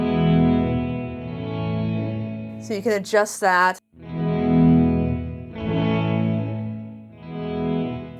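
An electric guitar rings through an Alexander Space Force reverb pedal, with sustained, shimmering washes of reverb swelling and fading; someone briefly speaks in the middle while the tail decays around him.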